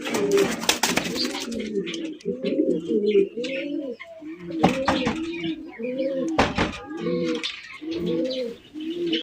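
Archangel pigeons at a farm coo repeatedly in rhythmic, throaty rolls, several birds close together, with clattering knocks and some chirps mixed in.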